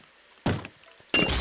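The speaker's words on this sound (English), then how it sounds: "break my window" Two short, sharp breaking thuds in the Minecraft game, as a window is smashed during a zombie fight, each hit loud and alone against near silence.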